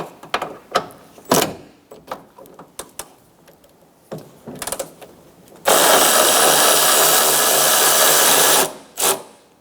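A power tool buzzes loudly and steadily for several seconds while 10mm bolts are removed from the side mirror of a 2012-2016 Subaru Impreza, preceded by scattered clicks and taps of handling parts.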